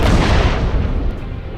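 A grenade blast, a single loud deep boom whose broad rumble slowly decays over more than a second.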